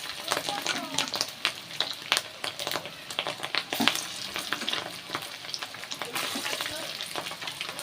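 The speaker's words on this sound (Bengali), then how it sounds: "তো আমি বড়াগুলো এবার ভেজে," Fish roe fritters fry in a pan with steady, dense sizzling and crackling, close and loud, broken by occasional stirring clinks. A voice speaks faintly now and then under the sizzle.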